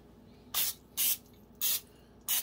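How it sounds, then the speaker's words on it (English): Cooking spray is sprayed onto a waffle iron in four short, soft hissing bursts, evenly spaced and close by in a quiet kitchen. "More spray for the next batch."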